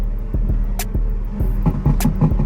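Exhaust crackles from a tuned 750hp BMW G82 on the road: sharp, loud pops and bangs at irregular intervals over a low, steady engine rumble.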